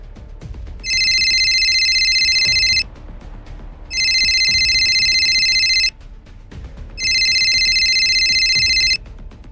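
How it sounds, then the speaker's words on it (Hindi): A telephone rings in a Hindi audio drama, three loud electronic ring bursts of about two seconds each separated by short pauses, with a faint background hum and no voices. "मैं अभी तुम्हारे पापा को फ़ोन करती हूँ।"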